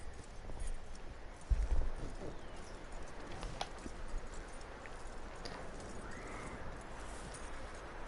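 Horse hooves clip-clopping in Red Dead Redemption 2, a soft, fairly faint rhythm of hoofbeats over a low ambient bed, with one brief louder thump early on.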